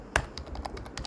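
Code is typed on a computer keyboard: a brief burst of about eight quick, light key clicks, close and clear, with no voices.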